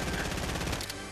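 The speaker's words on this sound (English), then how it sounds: "That's a charge shotgun!" Rapid, loud gunfire in Fortnite, a dense burst of repeated shots from a charge shotgun fight that keeps going for about a second with no pause.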